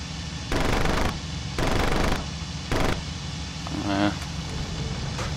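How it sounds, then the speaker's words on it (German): Aircraft machine guns firing in the IL-2 Cliffs of Dover flight combat game, three loud sustained bursts over a constant engine drone, followed by a lighter rattling and voice chatter. "Ich hab nur mit den MGs gefeuert"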